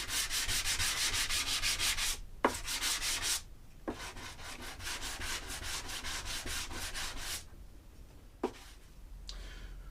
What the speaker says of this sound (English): the wedge itself has taken a bit of a beating from its use over the years, so I'm going to give that a little bit of a sanding.